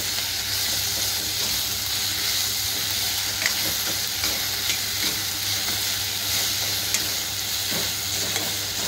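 Ginger, garlic and chili paste fries in hot oil for a prawn masala, a steady loud sizzle and hiss with light scraping from stirring throughout, close up.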